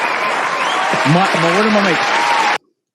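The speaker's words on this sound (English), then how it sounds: "This deserves a round of applause" Loud clapping from a crowd fills the moment while a voice speaks over it, then everything cuts off abruptly into silence.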